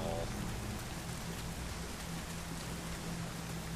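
Heavy steady rain in the video game Nioh hisses continuously as broadband noise, with a faint low hum of game audio underneath.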